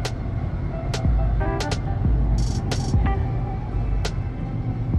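A commuter train runs along toward Joondalup, a steady low rumble with intermittent squeals and clicks, moderately loud and continuous.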